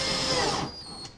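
A Trend Snappy high-speed steel drill bit bores a pilot hole in timber, a loud, steady whine that drops off sharply partway through as the bit breaks through.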